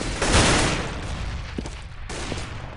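Grenade explosions and gunfire in a competitive team shooter match, with a loud blast and burst of shots up front followed by scattered sharper gunshots over a steady background roar.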